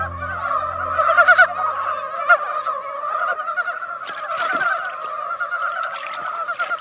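Dybowski frogs call in a spring forest, a dense overlapping chorus of nasal, honking croaks that carries on steadily, with a low hum fading out early on.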